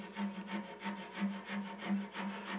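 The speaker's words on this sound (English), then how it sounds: "you don't need to sit here and watch me file" Hand file rasping a wooden spiral on a turning lathe, a steady back-and-forth rubbing in repeated strokes about twice a second, close and moderately loud, with the lathe's low hum underneath and no talking.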